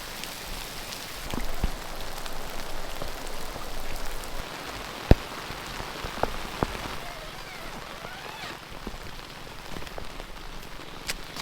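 Pouring rain falls on a shelter at a camping spot, a dense steady patter with occasional louder drops and taps close by, continuing throughout.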